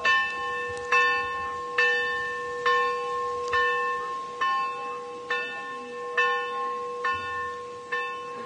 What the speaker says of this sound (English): Them bells. Just point it towards the church.